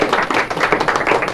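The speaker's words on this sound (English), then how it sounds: "I need some applause." A short burst of applause from a small group, dense, rapid clapping that carries on steadily without voices.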